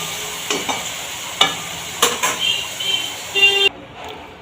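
Prawns fry in a pan with a steady sizzle, broken by a few sharp scraping stirs. The sizzling stops abruptly near the end, leaving near silence.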